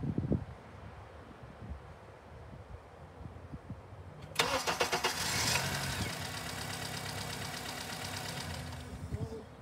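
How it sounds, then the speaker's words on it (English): A Honda engine cranks briefly and then catches and starts, settling into a steady, fairly loud idle with a slight rhythmic pulse. "I'm just going to do a normal crank to run"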